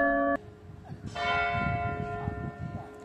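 Church bells ring in Mdina, Malta, loud and resonant, with overlapping strikes that swell and linger after a brief tonal chime at the start.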